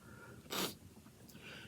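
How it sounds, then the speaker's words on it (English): A single short, sharp sneeze, fairly faint, alone against quiet room tone. "I'm going to sneeze."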